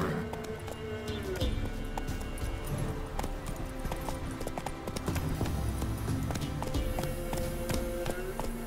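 Horse galloping in The Witcher 3: Wild Hunt, with steady rhythmic hoof clip-clop running throughout over game music and ambience, while a rider's voice speaks at times.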